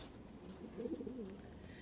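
A pair of Kaldum pigeons gives a soft, brief burbling coo in the middle, faint against a quiet, hissy background.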